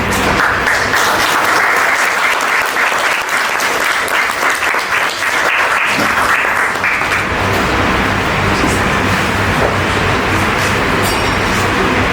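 Audience applause at a theatre performance of a play, dense sustained clapping from a large crowd that continues steadily throughout, loud and close.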